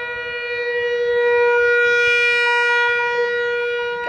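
A tornado warning siren wails loudly and steadily from a distance, its layered tone holding with a slight rise and fall over a low outdoor rumble, no voices over it.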